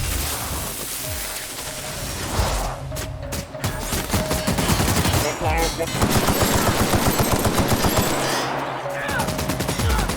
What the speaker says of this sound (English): Parvati, stop shooting Max!